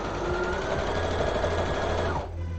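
A sewing machine runs a seam in one continuous burst, close and loud, its even mechanical whir cutting off near the end.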